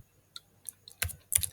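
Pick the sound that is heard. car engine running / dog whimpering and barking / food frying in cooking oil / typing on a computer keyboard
typing on a computer keyboard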